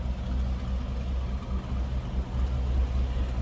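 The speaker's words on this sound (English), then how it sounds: "No crazy exhaust, no crazy cam. Just the way you would expect this to sound rolling off the Chevrolet dealer's showroom floor" A stock-exhaust 1963 Chevrolet Impala SS 409 V8 with a mild cam idles steadily, a deep low rumble with a loping, uneven pulse, close and continuous throughout with no talk.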